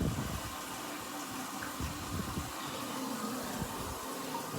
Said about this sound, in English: Your toilet will fill back up.